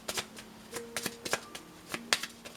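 Tarot cards shuffled by hand, a rapid series of crisp riffling snaps and soft slaps at close range, irregular and fairly quiet, with no talking.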